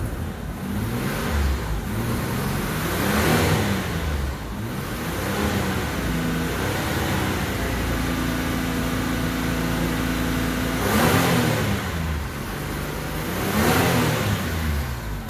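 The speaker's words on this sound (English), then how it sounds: "You zoom in when I rev it up." A poorly running 1994 Isuzu Rodeo engine revs up and settles several times, with rising and falling engine drone close by and no talk.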